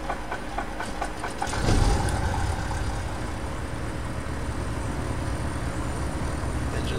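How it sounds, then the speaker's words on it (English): A Duchess 76 twin piston engine in a flight simulator cranks and fires with a low thump, then settles into a steady, rumbling idle. "Engine started, confirm."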